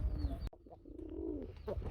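A male Rasgulla pigeon cooing softly nearby, a single low rolling coo after a brief sharp knock, faint and alone.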